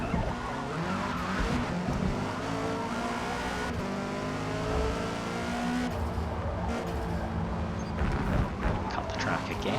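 A Honda Civic engine in a racing video game roars steadily at high revs, pitch climbing and dropping through gear changes, with faint tire squeal and a voice talking over it.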